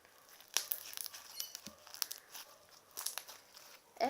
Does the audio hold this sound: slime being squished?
yes